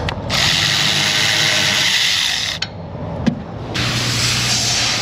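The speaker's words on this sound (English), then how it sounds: "I'll just tighten it with the wrench that I loosened it with" A ratchet wrench tightens a bolt in an auto repair shop, giving steady rapid clicking close by, broken by a short pause and a sharp clack before the ratcheting resumes.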